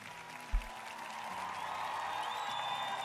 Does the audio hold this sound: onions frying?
no